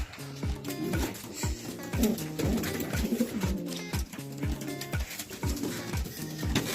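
Racing pigeons coo in a loft, repeated soft throaty rolling calls overlapping in an irregular rhythm, close and moderately quiet, with light rustling in the background.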